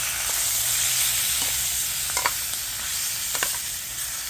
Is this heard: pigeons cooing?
no